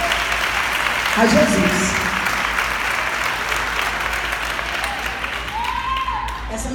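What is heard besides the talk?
congregation applause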